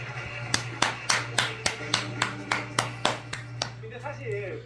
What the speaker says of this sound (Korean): 일단 축하의 박수 부탁드릴게요